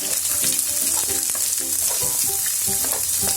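Loud continuous sizzling of finely chopped onions frying, with repeated scraping and clatter as they are stirred around the pan.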